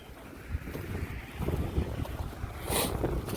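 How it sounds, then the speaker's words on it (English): Strong wind roars and buffets steadily, rumbling low with gusty surges, heard from a drone flying about 18 meters up. "it is pretty windy"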